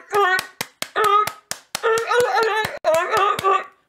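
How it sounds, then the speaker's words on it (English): Scattered sharp hand claps ring out in short bursts at a political gathering, mixed with voices talking loudly between and over them. "Please clap"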